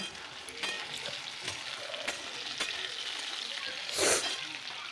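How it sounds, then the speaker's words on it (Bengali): Cut potato pieces deep-frying in hot oil seasoned with cumin in a wok, a steady close sizzle with occasional stirring scrapes and a louder spitting burst near the end. "আলুগুলোকে টুকরো টুকরো করে রেখেছিলাম ডুবো ডুবো করে এটাকে দিয়ে ভেজে নেব"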